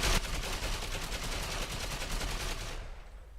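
Sustained automatic gunfire from a weapon in the online shooter Ghost Recon Online, a rapid unbroken burst of shots lasting nearly three seconds before cutting off, loud and close with no talking.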